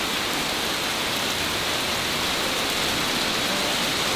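Heavy rain pours steadily onto a paint booth under construction, a dense, loud, unbroken hiss of water across the whole stretch with no talk.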